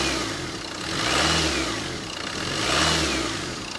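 Car engine from a 2017 Copart salvage auction car revving twice in smooth swells over a steady running note, close and fairly loud, no talk.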